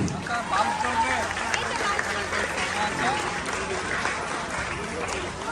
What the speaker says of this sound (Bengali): সকলকে জোরে করতালি দেওয়ার জন্য